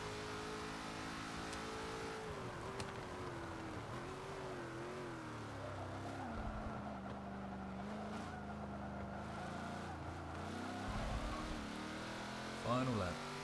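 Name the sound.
race car engine in Forza 7 video game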